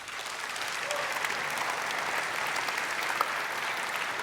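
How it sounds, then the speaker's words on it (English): Sustained applause from a large audience at the Unite Europe 2015 opening keynote, a dense, even wash of clapping at steady volume throughout. "I think that deserves a huge round of applause."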